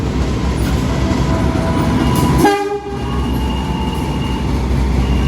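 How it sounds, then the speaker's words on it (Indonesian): The Logawa passenger train with stainless steel carriages arrives at a station platform, rumbling loudly alongside, with a brief horn blast partway through over the steady roar and clatter of rolling carriages. "Yang datang di jalur satu ini adalah kereta api Logawa, teman-teman."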